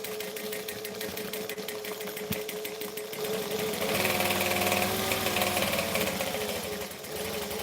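A sewing machine runs steadily while stitching a backstitch on a garment, its motor hum rising louder for a few seconds midway before easing back, with dense rapid needle clatter throughout and no talking.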